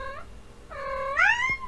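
A domestic cat yowls indoors in two drawn-out, wavering cries: a short one, then a longer rising and bending wail. Both are moderately loud and close, with no talking.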